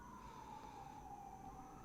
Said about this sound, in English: these sirens are actually pretty annoying